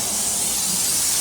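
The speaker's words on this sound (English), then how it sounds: "I am gonna spray these 2 racks with a little non-stick cooking spray." Non-stick cooking spray hissing from an aerosol can onto smoker racks, a single continuous close spray lasting over a second, loud and alone.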